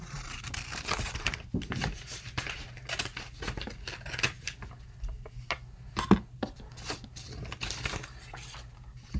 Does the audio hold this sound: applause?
no